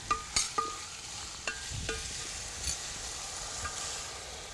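Slow stirring of a white pomfret curry made with coconut milk and pepper, with several soft scraping clicks of the spoon against the pot over a faint low simmer.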